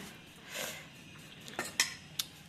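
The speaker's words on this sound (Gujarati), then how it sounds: "બસ પછી આમ એડ કરી જવાનું ને હલાવી નાખવાનું, બરોબર ને." Chili mixture for rayta marcha, pickled chilies, being stirred in a bowl, giving a soft scraping swish followed by a few sharp utensil clinks near the end, quiet and close with no talk.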